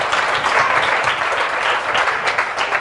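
Church congregation applauding, a dense steady patter of many hands clapping close by for a few seconds without a break.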